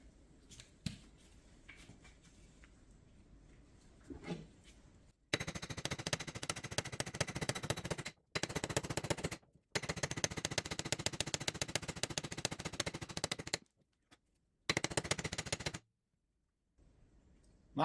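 Repeated loud metallic hammer blows drive wheel studs out of a hub, struck in rapid dense bursts with short pauses between series, close by and with no talking.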